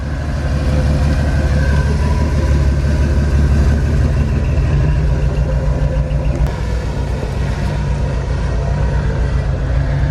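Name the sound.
Ford F100 truck engine idling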